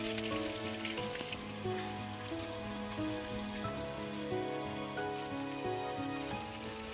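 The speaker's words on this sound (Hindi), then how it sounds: "अदरक लहसुन के पेस्ट को भी हम थोड़ा सा भून लेंगे" Ginger garlic paste fries in a pan for a village-style kadhi pakora, giving a steady, dense sizzle that stays even and close throughout with no talking.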